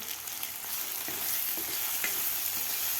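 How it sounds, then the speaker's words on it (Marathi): Spices, onion-garlic masala, red chilli powder and coriander fried in a tempering for Maharashtrian masoor dal, giving a continuous close sizzle with a few soft stirring scrapes, moderately quiet and without speech. "आता आपल्याला हे आणखीन एक ते दीड मिनिट आपल्याला परतून घ्यायचं आहे"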